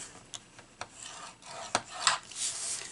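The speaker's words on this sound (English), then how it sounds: "I am going to score this at 7/8 of an inch" Cardboard is scored by hand for a hand lotion box, giving a few short, dry scraping and rasping strokes, close and fairly quiet, with no talking.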